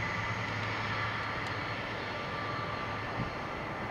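An El Al Boeing 767-300ER taking off on runway 23 at Toronto Pearson, its jet engines giving a steady, loud, broadband roar that holds constant throughout with no voices.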